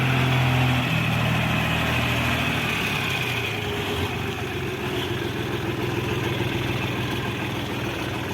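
A Dongfeng 240 tractor engine idles continuously with a low, even rumble, holding at a constant level throughout.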